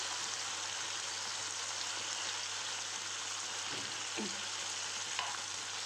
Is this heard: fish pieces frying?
yes